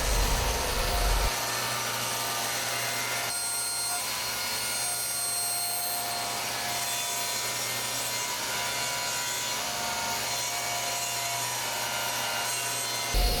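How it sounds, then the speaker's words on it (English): A maple tongue and groove panel being cut by a power saw, a loud, steady whine that holds for about twelve seconds with no pause, after a brief motor start. "And cutting the tongue and groove panel."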